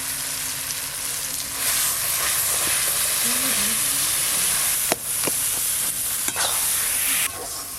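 Ground bean seeds are stirred in a frying pan to dry off their water, giving a steady sizzling hiss with scraping strokes of the spoon, close and continuous, with no talking.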